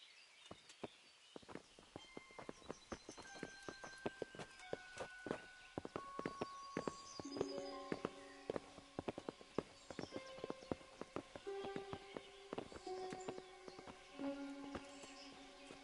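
Horse hooves clip-clop steadily on hard ground in the medieval game Kingdom Come: Deliverance, a fairly close rhythmic stream of sharp hoofbeats mixed with sustained musical tones and game ambience.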